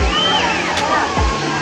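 Continuous rushing and splashing water from a man-made waterfall at a spring resort, steady and fairly loud, with voices talking over it.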